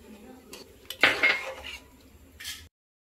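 Ginger and fennel paste stirred in a pan with turmeric for Bengali beulir dal, giving a few close metallic scrapes and clinks of a spoon on the pan with a light sizzle, then a cut to silence.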